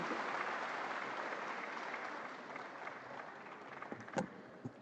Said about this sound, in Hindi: जोरदार तालियां माननीय मुख्यमंत्री जी के लिए